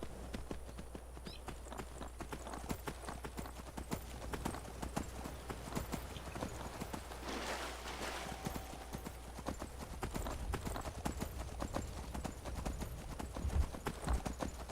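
Hooves of the horse Frost galloping in Skyrim, a rapid steady clip-clop rhythm that runs continuously at moderate volume, with a brief whinny-like rise midway.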